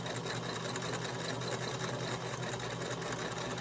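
A home sewing machine chain sews the last of a run of pinned fabric pieces, its needle mechanism humming in a fast, even, unbroken drone throughout, close and clear with no voices.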